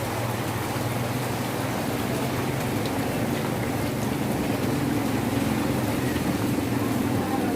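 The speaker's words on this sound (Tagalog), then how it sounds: "Nabutan ako ng ulan." Steady, heavy rain pours down in a constant dense hiss, close and loud, with a low rumble underneath and no pauses.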